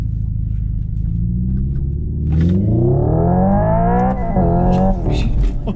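Electric Porsche conversion playing a simulated Porsche 928 engine sound through its sound system, a steady low drone that climbs into a rising rev, close and loud, then dips and surges again.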